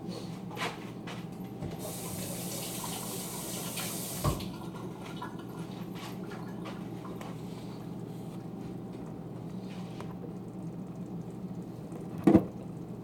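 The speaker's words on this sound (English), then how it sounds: "let me rinse the hand off" Tap water running steadily into a kitchen sink while a hand is rinsed, a soft constant hiss with a few faint knocks and clatters, nearby and quiet.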